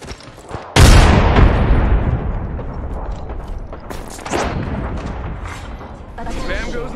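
Gunfire in Apex Legends on the Nintendo Switch: a sudden loud burst of shots opens a long, roaring barrage with scattered later blasts, mixed with a voice in the background.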